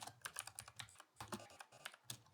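Rapid, uneven clatter of keys on a computer keyboard while Python code is written, close and distinct, with short pauses between bursts of keystrokes.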